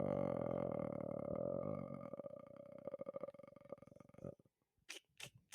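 One person lets out a long, croaking burp close to the microphone that fades out after about four seconds, followed by a few short breathy sounds.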